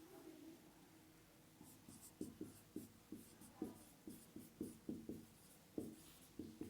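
Pen writing notes by hand on paper, a steady run of short scratchy strokes, close and fairly quiet, with no talking.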